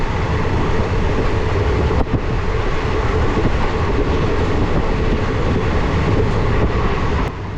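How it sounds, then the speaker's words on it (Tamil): Express passenger train at full speed of about 110 km/h between Tirunelveli and Nagercoil, heard from inside an unreserved coach as a loud, dense, steady roar of wheels and carriage rattle with faint clacks, no talking. "இந்த ட்ரெயின் பார்த்திங்கன்னா ஃபுல் ஸ்பீடில் போக ஆரம்பிச்சு நினைக்கிறாங்க."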